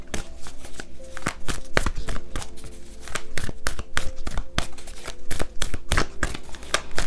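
Oracle cards being shuffled by hand during a tarot-style card reading, a long run of sharp riffling snaps and flutters coming in quick irregular bursts, close and clear with no talk over them.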